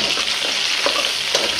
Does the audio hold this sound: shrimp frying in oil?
yes